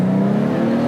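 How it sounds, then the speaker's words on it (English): Engine of a Toyota Soarer with a 1G engine and near-straight-pipe exhaust, a close, steady droning hum with a strong low tone, held briefly at constant pitch without talk. "It's a good sounding engine. It's basically straight pipe too, and it's not crazy loud."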